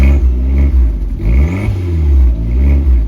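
A modified Abarth's engine revs up and down through the exhaust in its quiet exhaust mode, a loud, close, throaty rumble swelling in repeated surges.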